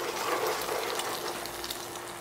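An egg fries in a frying pan for a breakfast bagel, giving off a steady, close crackling sizzle with a faint hum underneath and no talking.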